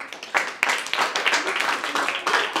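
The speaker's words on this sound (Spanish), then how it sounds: "Vamos a dar un aplauso," An audience at a children's murga show claps in a lively, uneven burst, with distinct individual claps building and pulsing near the listener and voices mixed into the applause.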